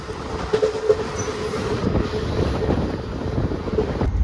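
Passenger train Netaji Express on the Howrah to Kalka route, heard from on board as a steady, loud rumble of wheels and carriage with wind noise throughout and no voices.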